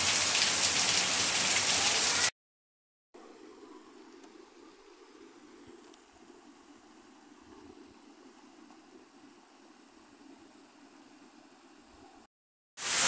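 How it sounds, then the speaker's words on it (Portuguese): Rain falls steadily on a Monday afternoon in Gizimeiro, Camocim, in Brazil's Northeast: a dense, constant hiss that is loud at the start, softer and even through the middle, broken by two short silent gaps. "e agora tá recebendo uma chuva dessa nessa tarde de segunda-feira."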